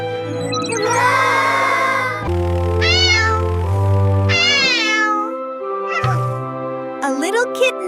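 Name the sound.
kitten meowing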